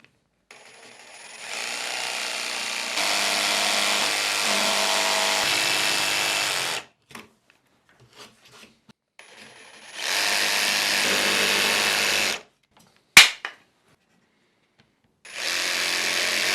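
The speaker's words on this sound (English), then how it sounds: "I like to drill a pilot first, then drill halfway through the plank and flip the plank for drilling the other half" A power drill with a Forstner bit bores through a wooden plank in three sustained whining bursts separated by silences, with a sharp knock between the last two runs, close and clear with no talking.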